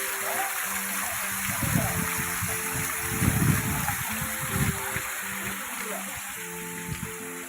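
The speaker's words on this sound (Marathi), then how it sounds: "हे पाण्याचे स्रोत खाली पडत आहेत." Water streams spilling about twelve feet down rocks in a Konkan village, toward the sea, make a steady close rushing wash, with people talking over it.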